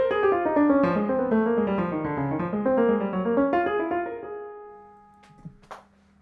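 A bebop lick played at full tempo on a melodic instrument, a quick run of clear, connected notes rising and falling, then a long held final note that fades, followed by faint handling noise.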